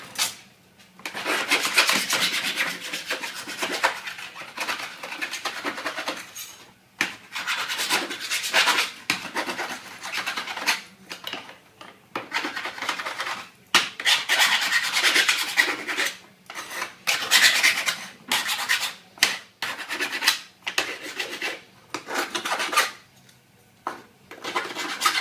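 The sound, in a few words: metal file filing sharp edges off steel cable tray bracket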